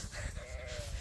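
A sheep bleats in a short, wavering cry at a farm where the flock has broken loose, heard fairly close over a rumbling, noisy background.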